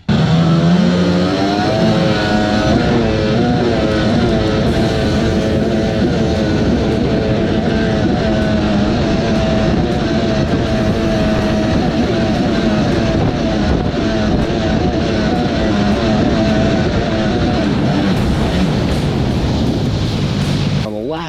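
A 1995-96 Sea-Doo XP jet ski run at top speed, its engine a loud, sustained, close drone with rising and falling harmonic tones and wind noise throughout.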